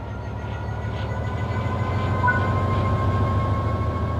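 Electric train traction motors run under power in the Train Sim World 4 video game, giving a steady low rumble with a faint, even whine above it that holds for the whole stretch.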